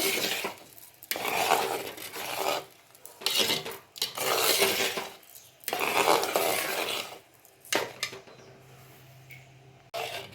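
Kalkandu sweet rice stirred in a pot: repeated bursts of scraping and rubbing as a spoon works through the thick rice, loud and close, separated by short pauses, with no speech.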